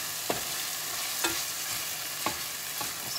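Cooked tomatoes are mashed and stirred in a hot frying pan, with several sharp scraping strokes over a soft steady sizzle, close by and fairly quiet.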